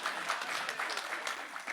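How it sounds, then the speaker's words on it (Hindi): Light audience clapping at a Hindi poetry recital, a brief patter of scattered hands that stays fairly even for a couple of seconds, with no voices over it. "और आपने इतनी कम ताली बजाई है।"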